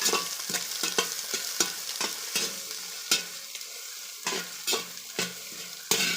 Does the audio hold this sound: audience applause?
no